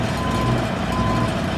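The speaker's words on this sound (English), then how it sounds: "Then he jumps back in his truck. He's going to move his truck out of the way." A Goldberg monster truck at a monster truck show drives off to clear the way, its loud engine a steady, close rumble with an intermittent reversing beep over it.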